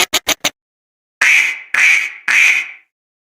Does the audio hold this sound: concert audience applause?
no